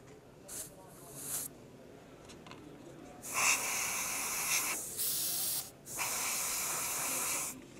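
An airbrush hisses in short bursts and then longer sustained sprays, laying a coat of hairspray onto a scale model; the spraying is close and fairly quiet, with brief pauses between passes.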